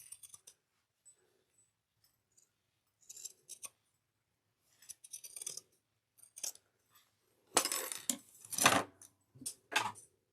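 Scissors cut through layers of fabric for a cross-body bag. The crisp snips come in irregular bursts, sparse at first and then louder and denser toward the end, with no voices.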